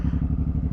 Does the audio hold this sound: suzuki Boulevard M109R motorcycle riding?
yes